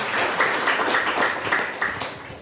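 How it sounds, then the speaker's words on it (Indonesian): A congregation claps during an Indonesian church worship service, with dense, steady applause from many hands filling a short stretch at moderate loudness. "Yang percaya berikan tepuk tangan buat Tuhan Yesus."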